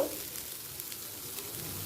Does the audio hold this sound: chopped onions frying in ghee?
yes